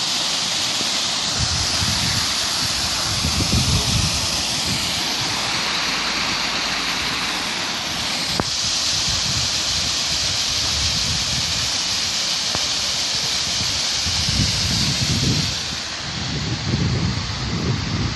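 Water from a spring at a river's source rushes and splashes steadily, with gusts of wind rumbling against the microphone now and then.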